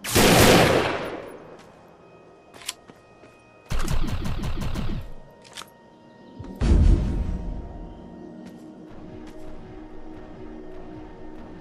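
Gunfire rings out in the video game Defiance: a loud blast, then rapid automatic bursts and a few single shots, separated by quieter stretches of game ambience.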